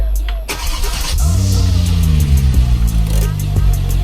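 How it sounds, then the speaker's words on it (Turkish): A truck engine in an MTA roleplay game cranks and catches, then settles into a steady low rumbling idle with a slight rev, heard up close. "görmüş olduğunuz gibi kamyon çalıştı"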